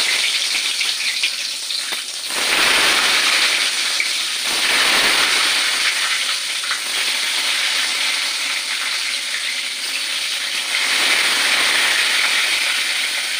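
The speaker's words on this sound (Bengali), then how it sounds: "তেল আমার গরম হয়ে গেছে, এবার বেগুনগুলো ছাড়বো।" Loud, steady frying sizzle close up as brinjal pieces go into hot oil, swelling in waves as pieces hit the oil, with no voices.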